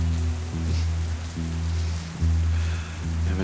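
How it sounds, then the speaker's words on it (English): Steady rain falling outside, a continuous close patter on surfaces with a low droning undertone, heard alone without any voices. "I haven't heard the sound of rain in a long time."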